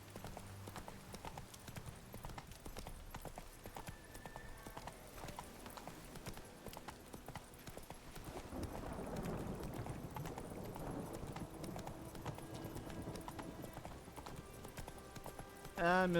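Horse hooves clip-clop in a steady rhythm in The Witcher 3, a moderately loud trotting beat with game ambience underneath. A faint voice is in the background.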